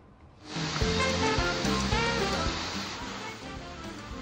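Salubiraya waterfall in Barania village, Sinjai, a broad steady roar of falling and splashing water that swells in and stays loud and constant, with no voices.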